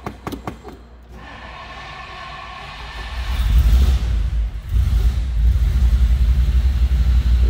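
A 1958 Ford Fairlane 500 convertible with a 332 V8 cranks briefly, then catches and settles into a loud, steady rumbling run that swells once more midway, close by with no talk.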